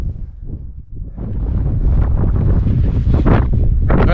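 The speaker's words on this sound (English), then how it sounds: "that wind is a bit breezier over here than it was at Fairbrook" Strong wind gusting across the exposed moorland plateau of Kinder Scout, buffeting the microphone with a roaring rush that swells and stays loud after a brief lull.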